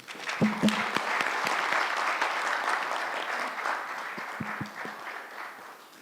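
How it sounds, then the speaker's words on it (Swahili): Sustained applause from an audience at a justice administration event in Kenya, steady broadband clapping filling the hall for several seconds, with a few louder claps standing out near the start and end. "Hiyo makofi haijatosha"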